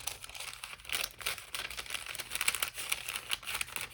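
Cockled, wavy onion skin stationery paper being handled and crinkled up close, giving a steady stream of soft crackles and rustles with brighter crisp peaks, no talking.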